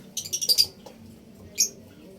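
Two bursts of bright chirping and squawking from African lovebirds, a quick cluster of calls followed by a single shorter call, fairly close over a quiet low background.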